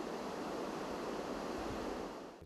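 Steady white noise from a library ceiling speaker, a soft, even wind-like hiss that holds constant throughout with no voices, then cuts off at the end.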